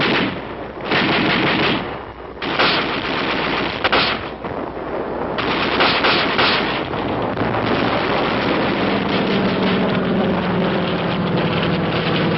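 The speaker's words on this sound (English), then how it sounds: "The auto rifle." Automatic rifle fire in Korean War combat, heard as loud, dense bursts of rapid shots with short pauses between them, then sustained rattling gunfire that continues steadily to the end.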